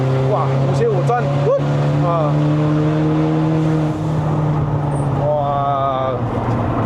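A Mercedes-Benz W212 E250 AMG Line engine revs hard to around 5500 rpm while climbing the Genting road in Malaysia, a steady loud drone rising in pitch through forceful gear changes, with someone talking over it.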